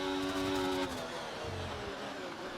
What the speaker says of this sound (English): listen to the state of that engine